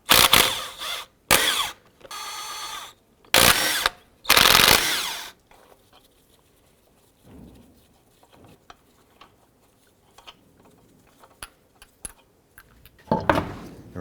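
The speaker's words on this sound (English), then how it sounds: "Using a 22mm socket, let's go ahead and remove the lug nuts." Lug nuts coming off a 2004-2009 Dodge Durango wheel with a 22mm socket: several loud, separate bursts of ratcheting or impact-wrench noise in the first five seconds, then quiet clicks and handling noises, and one more burst near the end.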